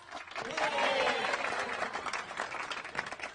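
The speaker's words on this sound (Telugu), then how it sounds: "క్లాప్స్." A crowd claps and cheers for a couple's love success among friends, a steady wash of applause with voices mixed in throughout.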